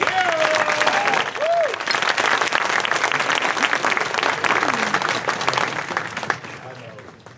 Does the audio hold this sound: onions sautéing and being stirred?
no